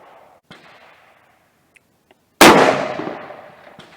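A single sharp 7mm Remington Magnum rifle shot cracks out loudly at a shooting range after a couple of faint clicks, followed by a long echoing decay.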